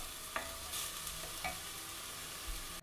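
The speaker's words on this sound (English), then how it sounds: "I'm also boiling the kettle, hence the extra noise, extra sound effects." An electric kettle boils in a home kitchen, a steady bubbling hiss with a few clicks and clatters from cooking nearby, moderately quiet.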